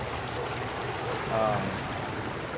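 A small man-made river running through Township 9 Park, its water flowing with a steady broadband wash and light trickle, heard outdoors at moderate level throughout, with faint voices in the background.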